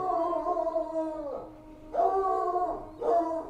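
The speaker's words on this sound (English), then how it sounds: "Sorry for the barking." A coonhound howls and bays in long, drawn-out calls, with three sustained howls separated by brief pauses, fairly close and loud with no talking over it.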